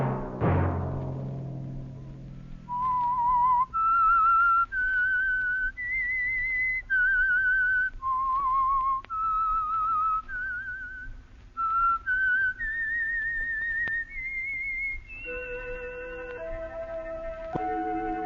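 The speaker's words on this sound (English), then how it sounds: "Let that whistle be your signal for the Signal Oil program, The Whistler" The whistled theme of The Whistler mystery radio program, a lone human whistler carrying a slow, eerie melody of sustained notes that rise and fall, clear and close after a brief low musical chord at the start.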